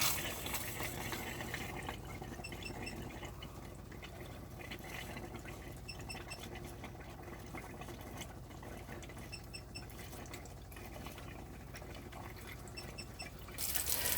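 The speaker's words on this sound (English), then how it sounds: "we've now got water running out of every tap continuously on board the caravan" Water runs continuously from the taps aboard an FC Swift Elegance Grande 850 caravan, a steady broadband rush at moderate distance with a faint gurgle of air in the pipes, with no voices.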